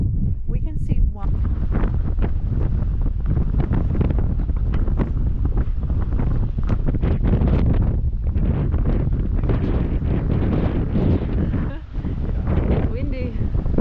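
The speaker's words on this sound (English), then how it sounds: "Windy." Strong coastal wind buffets the microphone in a constant loud roar along an Australian shoreline where ocean-going vessels sit at anchor, with no break across the whole stretch.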